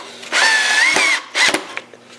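Power drill whirring at high speed in two close bursts as it drives screws into rain guards during a car restoration, the first burst long and the second short with clicks after.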